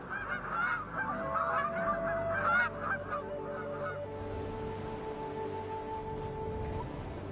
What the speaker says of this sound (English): The Aleutian Canada goose are a success story